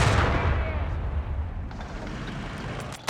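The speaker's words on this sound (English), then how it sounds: "And now a mortar coming in from Ray." A heavy mortar blast booms in a Company of Heroes 3 match, opening with a loud low thud that rolls into a long, fading rumble, with a commentator talking over it.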